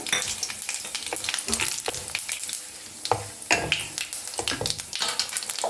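Bay leaves, small dried chillies and cumin seeds crackle and sizzle in hot oil for a tempering, with steady frying hiss and sharp popping spatters throughout, close and fairly loud.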